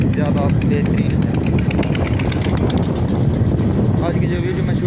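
A motorcycle engine runs steadily while riding along a scenic route with a passenger aboard, a continuous droning hum with wind rush throughout and people talking over it.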